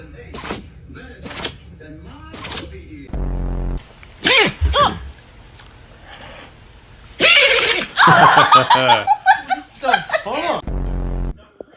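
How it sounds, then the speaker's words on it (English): A dog sneezes in several sharp, close bursts spaced through the stretch, mixed with laughter and chuckling. "What a better way to start off the show than with some dog sneezes"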